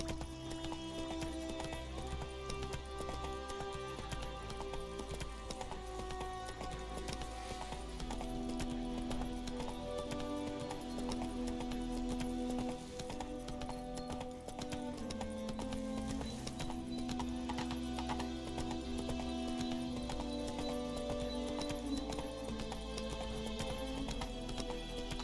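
Roach, a horse in The Witcher 3, gallops with steady, continuous clip-clop hoofbeats over game music, with an occasional whinny and no talk.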